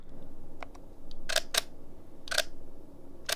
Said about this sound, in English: The silent mode just really makes the sound a little bit longer and hopefully less obnoxious than it regularly is.